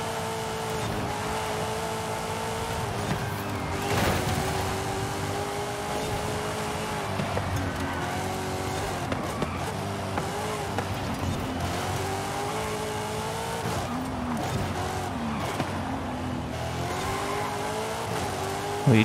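Race car in the Forza Horizon 5 winter trial event, its engine droning steadily and revving through gear changes, with occasional tire squeal and skidding, loud and continuous throughout.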